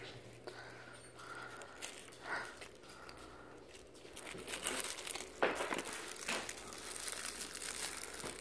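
Plastic packaging crinkles and crackles as a small Teenie Genie toy is unwrapped up close, with soft intermittent rustles building to louder crumpling and tearing bursts.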